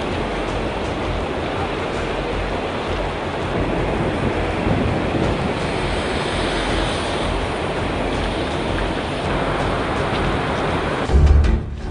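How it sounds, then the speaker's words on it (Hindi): Niagara Falls, a roughly 165-foot waterfall on the Niagara River in winter, roars as a dense, continuous rush of water, loud and unbroken with no voices. "नियाग्रा वाटरफॉल करीब 165 फीट की ऊंचाई से गिरता है।"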